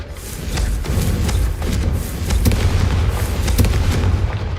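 Repeated blasting-curse explosion spells from Hogwarts Legacy, a rapid series of loud booming bursts and sharp cracks, one after another over a rumbling low backdrop, close and forceful.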